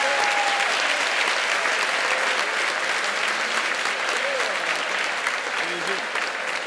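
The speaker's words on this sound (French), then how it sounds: "Faites une bonne main d'applaudissement à tous ces bénévoles-là" A hall crowd applauds the volunteers at the 100th anniversary ceremony of the Municipality of Sainte-Jeanne-d'Arc in Quebec. The clapping is dense and sustained throughout and stays fairly even.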